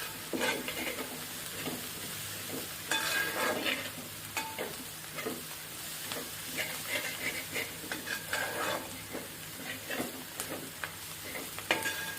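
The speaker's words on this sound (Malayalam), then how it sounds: "മഞ്ഞൾപ്പൊടി, നന്നായിട്ട് മിക്സ് ചെയ്ത് കൊടുത്തിട്ട്" Chicken is stirred with turmeric powder in a frying pan, giving a steady close sizzle under continual scraping stir strokes throughout.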